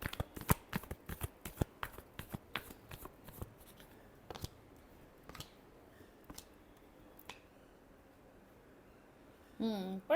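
Tarot cards being shuffled in a series of crisp, rapid riffles and snaps, close by, thinning into sparse single flicks before a short burst of handling noise at the very end.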